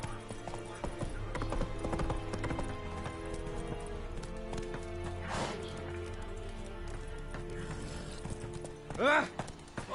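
Hoofbeats of a horse running in a PS4 video game keep up a steady clip-clop under game music and ambience, with a short whinny-like burst near the end.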